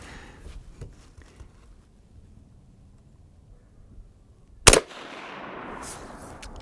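A single sharp, loud crack from a Savage A22 Magnum .22 Magnum rifle firing a Federal 50-grain round outdoors, standing out after near quiet and followed by a steady windy hiss.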